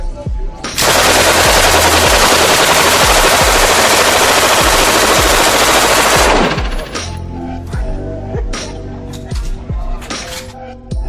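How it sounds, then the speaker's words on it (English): A military-grade weapon fires one long, loud, sustained burst of automatic gunfire. Several sharp, scattered single shots follow as the burst stops, and there is no talking. "he was filmed shooting a military grade weapon"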